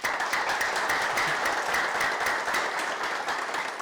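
Dense, continuous applause from an audience at a business training session, loud and sustained with steady rapid clapping and no voices over it.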